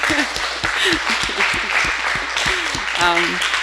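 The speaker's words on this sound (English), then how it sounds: "So let's give a round of applause to Anna." An audience at a Columbia River Treaty public meeting in Valemount, BC claps in appreciation, a moderate round of applause with voices talking and calling out over it.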